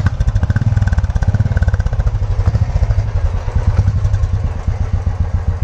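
Royal Enfield Bullet motorcycle on its stock exhaust, a loud close-up beat of deep, evenly spaced thumps from the engine running and gently revving throughout.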